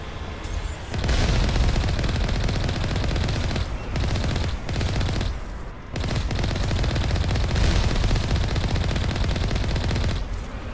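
Rapid automatic gunfire in the sci-fi shooter Mass Effect Legendary Edition, loud, dense bursts that run nearly the whole time, broken by a few brief pauses, with no talking.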